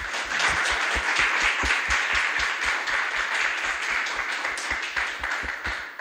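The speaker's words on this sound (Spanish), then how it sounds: "¿No le dan un aplauso al Señor?" A women's church gathering claps in praise to the Lord, with rhythmic, unison clapping at a steady beat giving sharp, evenly spaced claps over a general bed of applause, sustained at moderate loudness throughout.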